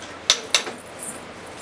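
A spoon knocks twice against a cooking pot while stirring natu kodi pulusu, a country chicken curry with tomato and onion paste, giving two quick metallic clinks close by and then a soft scrape.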